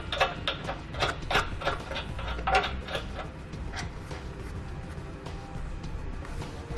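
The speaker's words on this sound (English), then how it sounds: "And then snug those down using a 19mm socket." Lock washers and nuts being snugged down onto bolts with a 19mm socket while fitting a Roadmaster Direct-Connect base plate kit to a 2018 Jeep, giving rapid ratchet clicks and metallic ticks in an irregular run, close up with no talk.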